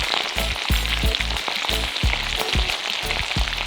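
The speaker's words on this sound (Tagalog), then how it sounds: "2 minutes uli ng pagprito sa medium heat" Chicken fries in a pan over medium heat, a steady sizzle broken by regular crackling pops and light scraping. The sound is close and continuous, with no talking.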